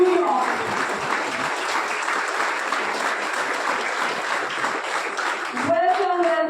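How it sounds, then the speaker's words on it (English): A crowd applauding a guest professor at a ceremony, dense sustained clapping that fills the room for several seconds, with a voice coming in over it at the end. "And an applause, the vibration of which we shall carry back to New York."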